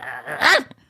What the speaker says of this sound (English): the more you say shut up, the more she barks